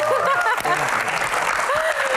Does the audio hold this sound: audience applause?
yes